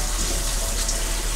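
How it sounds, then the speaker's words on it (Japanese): Tap water runs steadily as boiled okra is rinsed in a colander in a kitchen sink, a brief, continuous splashing rush close by. "ザルにあけて、洗いました。"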